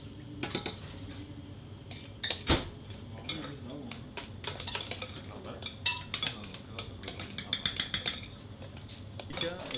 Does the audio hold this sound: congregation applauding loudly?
no